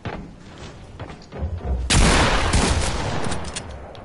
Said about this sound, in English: I bet that's a sniper.